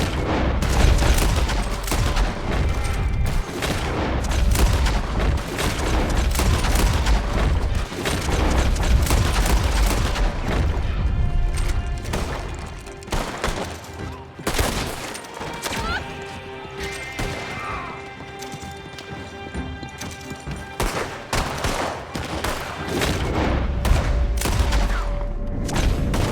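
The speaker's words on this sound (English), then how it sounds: "There's these guns from everywhere." Heavy gunfire in Red Dead Online, dense overlapping shots and crashes from many directions, loud and continuous, thinning briefly in the middle before building again.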